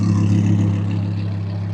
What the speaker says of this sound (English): So V10 R8, sounding great.